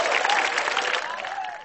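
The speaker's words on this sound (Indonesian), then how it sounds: "Tepuk tangan dulu buat perekonomian Indonesia." Crowd applause at a live comedy battle show, a full burst of clapping that stays loud then begins to fade, with a few voices calling out over it.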